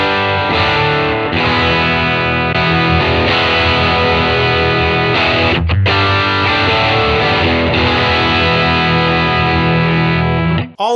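Electric guitar played through a Nobels ODR-1 overdrive capture on TONEX into a clean Deluxe Reverb, thick distorted chords ringing out loudly with brief pauses between strums.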